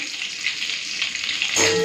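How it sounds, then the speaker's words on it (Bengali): Bay leaf and whole spices hit hot oil in a pan and sizzle steadily and loudly, then burst into a louder, harsher crackle near the end, with no talking. "একটা তেজপাতা দিয়ে দিচ্ছি তেলে ফোড়ন"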